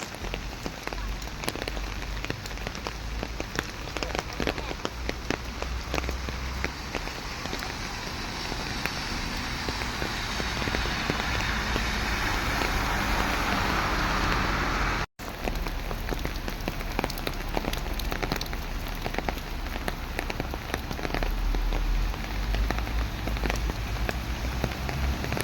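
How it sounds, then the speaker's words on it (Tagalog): Heavy rain pounds steadily on surfaces in Hong Kong, a dense, continuous hiss of drops that stays close and loud throughout with only a momentary break. "Diba super ulan."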